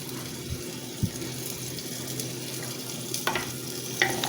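Mutton frying with onions in a pan over a medium flame: a steady, close hiss of sizzling oil with a few scattered utensil knocks and clinks against the pan.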